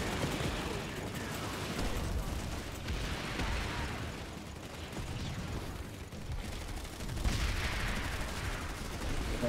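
Suppressed PDW fitted with a thermal scope firing in Planetside 2, with muffled rapid shots mixed into a busy battlefield din of distant gunfire and explosions, steady throughout with a louder swell near the end.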